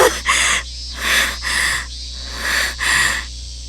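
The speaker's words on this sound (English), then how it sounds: "Only the sound of our tortured breathing echoed through the area." Heavy, tortured breathing in the Higurashi video game: several slow, rasping, wheezy breaths in a steady rhythm, close and fairly loud over a low steady hum, with no talking.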